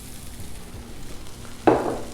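Half a bag of hash browns hits butter and oil on a Blackstone griddle, a faint low background hiss suddenly bursting into a loud, close sizzle that keeps crackling to the end.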